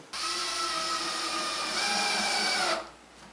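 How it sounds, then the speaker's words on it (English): A cordless right-angle drill drives screws into a TV stand cabinet, whirring steadily for a few seconds at high speed, its pitch shifting slightly as it drives, then stops. "there's just barely space in there for my right angle drill"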